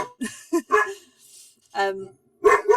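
A household dog barks in short, sharp bursts at close range, several separate woofs spaced by brief gaps, mixed in with someone talking nearby.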